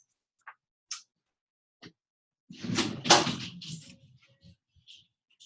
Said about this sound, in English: Let me shut my door real quick.